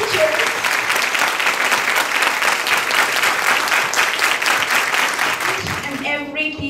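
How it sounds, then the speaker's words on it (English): An audience applauds teachers after their presentation, a dense, steady wash of clapping that holds loud throughout, then thins near the end as a voice begins to speak. "Let's have a big round of applause for all these teachers."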